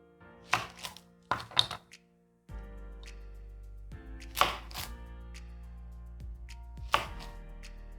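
A knife chopping a yellow onion into quarters on a cutting board, a few sharp distinct thunks spaced apart with quiet pauses between, close and clear.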